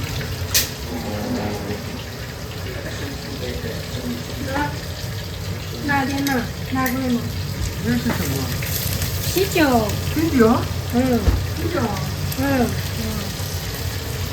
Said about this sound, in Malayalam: ഇതിലോട്ട് ബിയറൊക്കെ ഒഴിക്കുന്നുണ്ട്